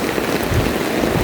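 Monsoon rain falling steadily, a dense close hiss of drops on surfaces with a low wash underneath, unbroken throughout and no voices.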